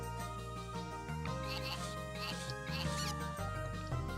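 A bleating, sheep-like sound effect from the Suikoden video game plays over looping game music, with a wobbly tone repeating through the short passage.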